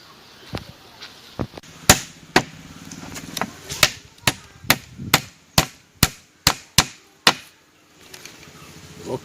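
A wooden piece is hammered onto a handmade chair of local timber: about fifteen sharp, loud knocks, some in quick pairs and others spaced, each ringing briefly against the wood.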